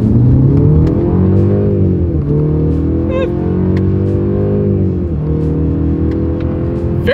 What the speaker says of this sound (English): Let's put the acceleration and paddle shifters here to the test.